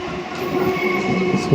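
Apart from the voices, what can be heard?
train departing from station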